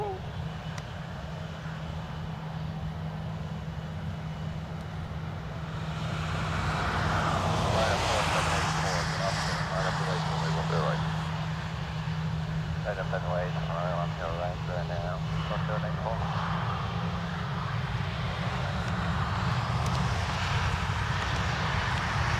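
An airliner takes off from runway 10 right at Dublin Airport, its engine roar building after a few seconds into a loud, sustained distant rumble, with radio chatter and voices heard over it.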